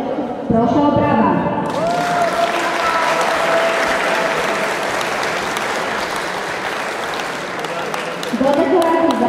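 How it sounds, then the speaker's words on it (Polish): Audience clapping at a shooting competition award ceremony, a dense burst of applause that swells after brief speech and runs steadily before talk resumes. "Proszę o brawa."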